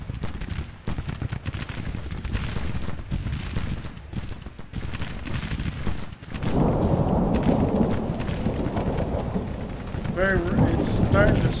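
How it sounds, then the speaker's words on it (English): Heavy rain pours down and thunder rolls through a Civil War battle at Vicksburg in Grand Tactician: The Civil War, a dense continuous downpour that swells louder midway while deep rumbles roll underneath. "Storm and thunder here at Vicksburg."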